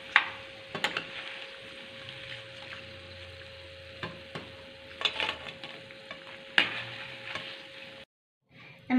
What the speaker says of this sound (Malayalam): എല്ലാതും ഇളകുന്നതിനാണ് ഇതിങ്ങനെ ഇളക്കി കൊടുക്കുന്നത്.